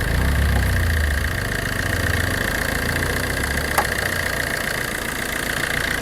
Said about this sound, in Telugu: చూడండి, పర్ఫెక్ట్గా ఇంజిన్ బీటింగ్ అయితే పడుతుంది